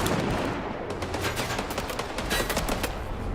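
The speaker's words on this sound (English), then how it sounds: "So maybe we just shoot them all." Gunfire in the video game Indiana Jones and the Great Circle, loud sustained bursts of rapid shots layered into a dense fusillade over rumbling game sound, lasting a few seconds.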